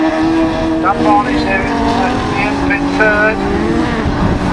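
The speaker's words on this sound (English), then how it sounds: "Very quick cars in this final" Autograss racing cars in the Class 7 final at Nottingham roar past, loud and close, engines whining up and down through the revs as they jostle, while a commentator talks over them.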